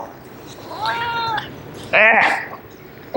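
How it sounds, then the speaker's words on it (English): A pet cat gives two clear meows close up, the first drawn out and softer and the second louder and sharper, with a quiet room around them. "Such a good kitty."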